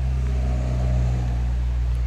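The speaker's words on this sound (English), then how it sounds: "You can hear all the traffic on the road." Road traffic near the village of St Day makes a steady, continuous low hum and drone, heard from a nearby footpath. It stays fairly distant throughout, with no voices.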